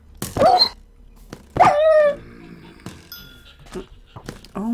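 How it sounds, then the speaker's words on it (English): Dogs barking in the Minecraft video game, a few sharp yips and barks close by, mixed with excited talk from players. "Damn dogs!"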